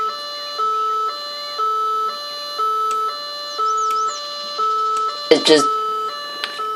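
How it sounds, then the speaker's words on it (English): An electronic two-tone vehicle siren in the video game BeamNG.drive wails in a steady alternating rhythm, with a brief spoken voice cutting in near the end. "I just picked a siren at random and I like this one."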